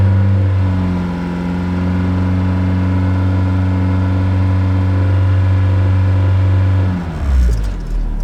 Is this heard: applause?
no